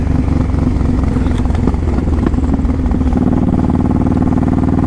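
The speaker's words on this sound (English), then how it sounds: "Mean sounding bike." Honda VTX 1800 motorcycle engine, a loud, deep, close rumble with a rough throbbing beat, holding steady before settling into a slower lumpy pulse, with no talk.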